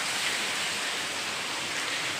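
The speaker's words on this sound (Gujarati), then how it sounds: "તમને બારી ખોલીને દેખાડી દો મિત્રો કેવો વરસાદ પડે" Rain falls just beyond an open window, a dense, even hiss that holds steady throughout with no talking.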